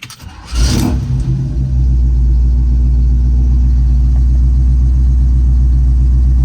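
A Chevrolet 350 small-block V8 cranks briefly and fires, then settles into a loud, steady, deep idle rumble close by.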